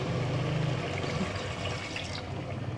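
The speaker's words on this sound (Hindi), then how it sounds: "अब मैं इसमें 1 गिलास जो है ना वो पानी ऐड कर दूंगी।" A glass of water is poured into browned chicken korma in a cooking pot, making a steady splashing pour with sizzling that fades after a few seconds; no talk.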